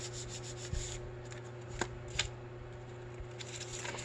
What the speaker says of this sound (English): flip it over and fold it the other way